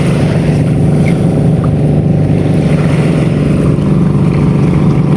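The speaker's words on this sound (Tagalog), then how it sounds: "At meron din pong parating dito mga bangka." A steady, loud motor drone of a fishing boat engine running nearby as boats arrive, constant without pauses.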